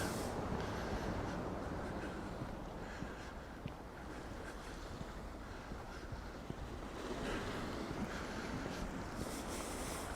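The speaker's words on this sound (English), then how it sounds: "I do love the sound of the sea" Sea waves wash onto the beach at Palmanova, Mallorca, a faint, continuous surf roar with gentle swells and some wind buffeting the microphone, heard alone without voices.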